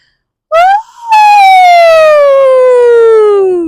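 A voice imitates a fire truck siren: a brief upward swoop, then a long sustained wail that slowly slides downward and fades.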